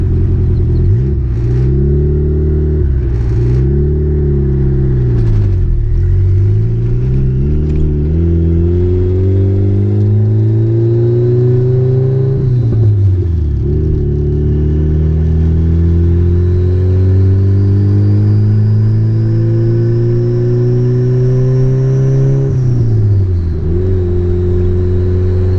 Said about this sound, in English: I got my laptop here in the passenger seat, but this is just some regular driving